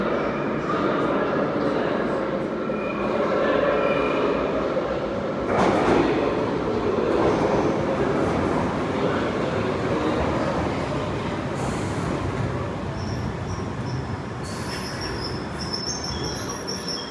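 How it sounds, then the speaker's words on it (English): A loud eastbound London Underground train rumbles through a station with metallic wheel squeals and a few sharp clanks. "this is our eastbound train."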